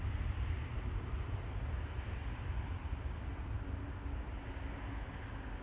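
Boeing 737 Max 9 departing Amsterdam Schiphol for Antalya, a steady broad engine roar held at a constant distance, moderately loud and unbroken, with no voices.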